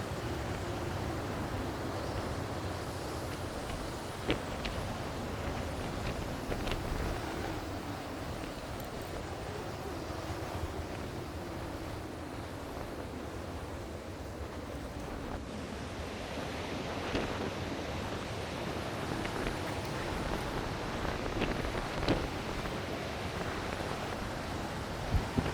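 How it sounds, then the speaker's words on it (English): Wind and waves on a coastal headland near Aberdaron, Wales: steady, roaring surf mixed with gusty wind buffeting the microphone. The wash stays continuous and fairly loud throughout, with a few sharper gusts and spray bursts. "As we leave the shelter of the beach, the wind begins to pick up."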